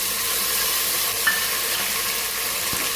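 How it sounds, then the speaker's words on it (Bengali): Green chillies and chopped tomato fry in a pan for khichuri, giving a steady, even sizzle throughout with a faint clink of a utensil partway through and no talk. "এগুলো ভালো করে কষিয়ে তারপরে চালটা দিই।"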